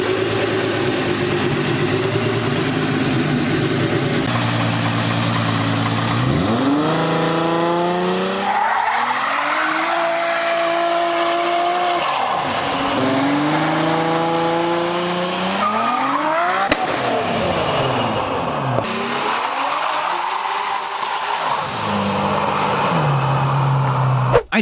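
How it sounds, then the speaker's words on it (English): A twin-turbo 12-cylinder VW Touareg engine revs hard and drives off, with climbing and falling engine pitch through repeated gear changes, loud and close, plus tire squeal and skidding. "Next up is this twin turbo 12 cylinder VW Toureg, which moves like a beast."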